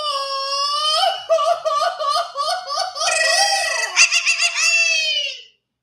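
A voice imitates a Mexican grito, a long, high, warbling yell that breaks into trilling yelps and then rises into a sustained cry, loud and close at a comedy open mic.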